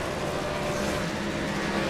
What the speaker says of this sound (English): They're revving the shit out of it.